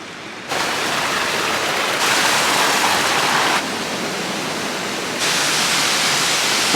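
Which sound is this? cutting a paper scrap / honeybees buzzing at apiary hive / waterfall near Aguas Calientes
waterfall near Aguas Calientes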